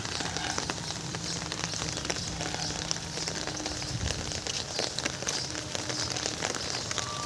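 Rain falling under dense dark clouds along a jungle road, a continuous hiss of drops spattering on surfaces with scattered sharper taps, steady and fairly close throughout.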